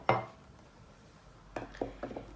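A metal cooking pot is taken out for marinating chicken, giving a sharp clank at the start and then a few lighter clinks and knocks of cookware close by.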